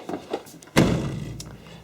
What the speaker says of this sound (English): door wasn't going all the way in, and it seems that you have to slam it a bit.